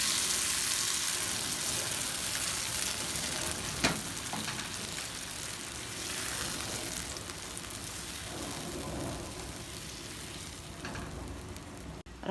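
Chopped onion fries in a pan as a blended mixture for Yemeni-style ful is poured over it, producing a steady loud sizzle with a few clinks and scrapes, close up and without talk.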